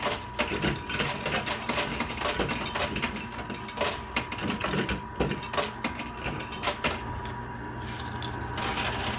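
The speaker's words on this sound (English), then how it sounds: "We're going to get more quarters clicking." Quarters clattering and dropping in a coin pusher machine, a dense run of metallic clinks and jangles with irregular louder bursts over a continuous mechanical whir, close and busy with no talking.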